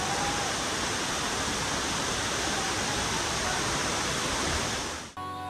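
Khoiyachora waterfall in Sitakunda, a dense, steady roar of falling water heard close and loud throughout, ending abruptly in a short cut.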